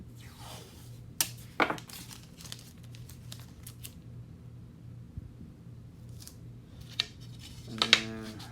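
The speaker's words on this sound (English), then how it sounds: "Basically what you do is you put down tape," Tape being laid down and cut on the top of a 1920 parlor organ, with scattered crinkling, rubbing and sharp snips spread across the clip at close range, no talking.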